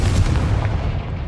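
A Confringo fire spell blasts in Hogwarts Legacy, giving a loud, dense, booming burst with a heavy low rumble that lasts the whole short moment, then eases off slightly.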